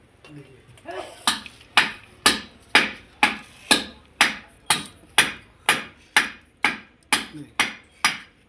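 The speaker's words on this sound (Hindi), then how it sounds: "ऐसे एक एक करके मैं तार को इस पेचकस की सहायता से बिठाता हूँ" A screwdriver taps copper wire down into the winding slots of a Texmo 5 HP double-face motor being rewound. About fourteen sharp metallic taps sound close and loud in a steady, even rhythm, each ringing briefly, with no talk.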